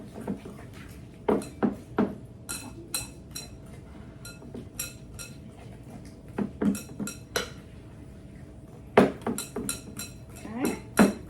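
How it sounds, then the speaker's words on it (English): A fork clanks and scrapes against a bowl while mashing butter and dates together for date and nut bread, in clustered bursts of sharp clinks separated by quieter stretches, close and fairly loud with no talking. "Just kind of using a fork to kind of smash them together, especially the butter."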